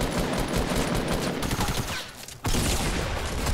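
Rapid automatic gunfire in the Fortnite Battle Royale video game, a dense, loud stream of shots that briefly dips before another heavy burst.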